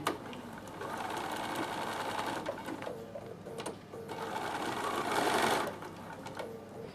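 A sewing machine stitches fabric for a tissue box cover in a steady whirring run, easing briefly near the middle before speeding up again, close and continuous with no talk.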